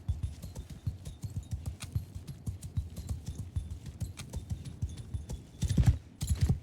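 Horse hooves clip-clop in a rapid, uneven gallop in the video game Mount and Blade Bannerlord, fairly quiet, with a couple of heavier thuds near the end.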